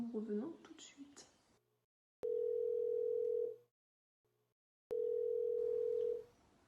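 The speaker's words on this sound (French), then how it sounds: "nous avons la tonalité, ça sonne" A telephone call to a pizzeria in Mimizan-Plage: a short garbled burst of voice, then two long, loud, steady ringback tones separated by silence, close and clear.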